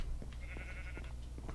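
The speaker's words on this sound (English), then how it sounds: "Mr. Sheep, don't you know you're trespassing?" A sheep bleats once, a short, nasal, wavering call heard close over steady low background hum, in a video game.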